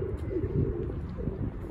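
Pigeons cooing at home near their nest, soft low coos repeating close by over a steady background hum.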